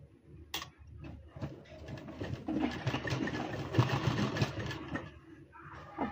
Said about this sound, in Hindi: टाँकी लगा रहे हैं हम।